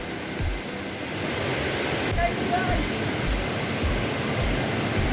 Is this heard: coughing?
no